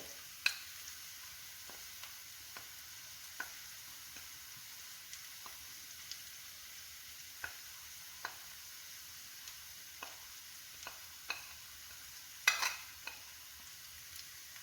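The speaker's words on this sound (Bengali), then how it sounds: "একটু ভালো করে নাড়িয়ে নেব।" Prawn curry masala being stirred in a pan, with faint sizzling throughout and regular light scrapes of a spatula, one louder clatter near the end.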